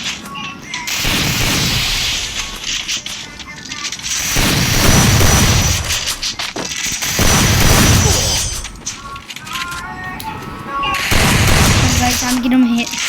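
Shotgun gunfire in a video game, heard as four loud, heavy surges of blasts spaced a few seconds apart with dense crackling between them.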